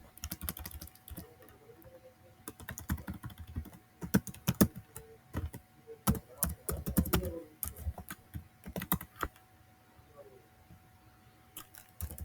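Rapid, irregular keystrokes on a computer keyboard clatter in bursts close to the mic while code is typed, with short pauses between runs and no voice.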